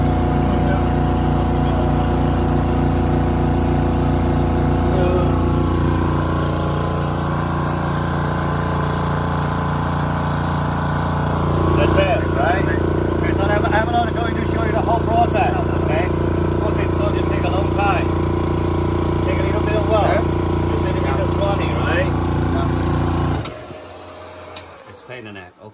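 Small electric air compressor running steadily while inflating, a loud close motor drone with a constant hum that cuts off near the end, with people talking over it throughout.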